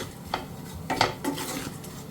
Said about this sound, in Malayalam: ഇനി ഈ പൊടി ഐറ്റംസ് നമുക്ക് നല്ലതുപോലെ ഒന്ന് ഇളക്കി യോജിപ്പിക്കാം.